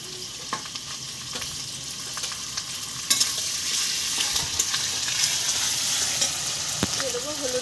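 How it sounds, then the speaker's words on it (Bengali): Spice paste of garlic, ginger and dried chilli, added to reddened fried onions, sizzles steadily in hot oil, a continuous close frying hiss with occasional stirring scrapes and pops. "এবার মশলাটা আমি ভালো করে কষে নেব।"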